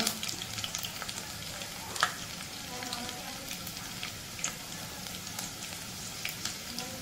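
Garlic sizzles and fries steadily in hot oil in a pan for a Konkani-style prawn curry, a soft continuous crackle with a few sharper pops and stirring sounds close by.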